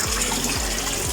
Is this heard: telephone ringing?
no